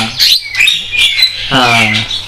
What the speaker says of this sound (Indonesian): Jalak putih sama jalak kebo nih.